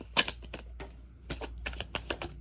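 A deck of tarot cards is shuffled by hand, with quick bursts of crisp riffling clicks and flutters separated by short pauses, close and fairly loud.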